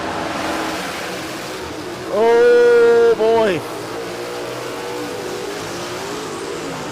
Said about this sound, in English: That was a lot of revs in the burnout.